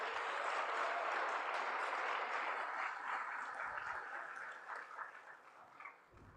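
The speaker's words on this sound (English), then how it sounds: "Clap for him." An audience at a graduation ceremony for an MBA and PhD programme breaks into sustained applause, a dense wash of many clapping hands that starts full and slowly tapers off toward the end.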